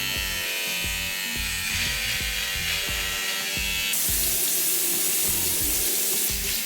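Water runs steadily from a bathroom tap into a sink as someone waits for it to turn hot, a continuous hiss and splash that grows brighter and stronger partway through, with faint mechanical ticking underneath.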